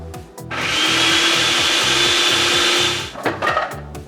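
A food processor blends pesto after half a cup of olive oil is added, a loud close motor whir running for about two and a half seconds, framed by clunks and rattles before and after.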